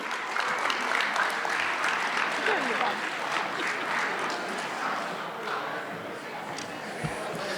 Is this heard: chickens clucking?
no